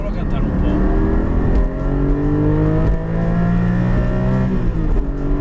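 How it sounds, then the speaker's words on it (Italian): A Porsche 718 Cayman GT4 flat-six engine revving hard as the car enters a motorway, a loud, rising mechanical howl heard from inside the cabin with gear changes; someone speaks over it. "adesso stiamo entrando in autostrada per farvi sentire un po' meglio il Flat 6."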